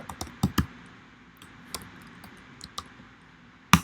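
Someone types on a computer keyboard while entering Python code, with sparse, irregular keystrokes and small clicks, ending with one loud, sharp key press.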